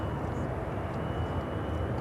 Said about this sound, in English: Canada 504 taking off to Toronto on the A220 300